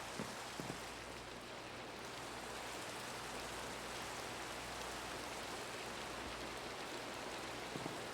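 Rain falling in the Minecraft video game, a steady, dense hiss of rainfall that holds evenly throughout at moderate loudness, with no talking.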